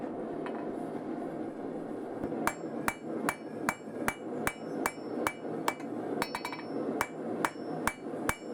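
A hammer strikes steel on an anvil over and over in a steady, evenly spaced rhythm, forging an axe preform; the ringing blows are sharp and close above a constant background roar from the forge.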